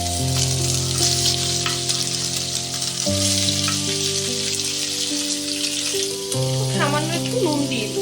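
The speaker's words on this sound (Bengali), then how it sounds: "আমি পনিরটাকে একটু ভেজে নিচ্ছি, খুব সামান্য ভাজবো" Paneer cubes frying lightly in hot oil, a steady close sizzle with crackling pops, heard under continuous background music.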